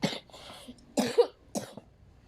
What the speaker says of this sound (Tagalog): Sorry guys, may ubo ko.